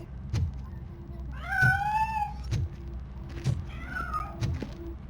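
Cat meowing in the video game Robocop: Rogue City, two drawn-out rising and falling meows over a steady low background hum with periodic soft thumps.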